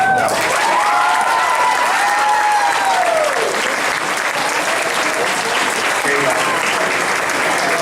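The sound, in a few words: audience round of applause for a graduating student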